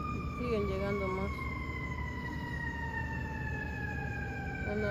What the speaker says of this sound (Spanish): ahorita ya se va la ambulancia